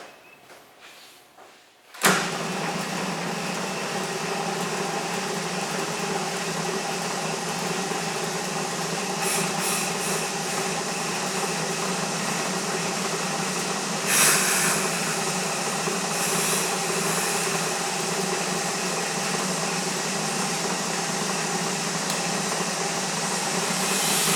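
A West Truecut 1115 brake lathe machines a disc rotor, starting abruptly after a quiet moment into a steady, loud mechanical whir and hiss that runs on evenly, with a couple of brief higher scrapes.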